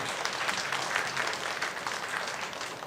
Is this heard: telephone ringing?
no